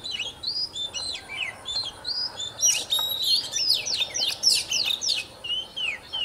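Bird song played through a TKS898 bird-trapping speaker: a busy run of bright, high chirps and whistled trills, repeated in quick bursts and fairly loud throughout, with no talking.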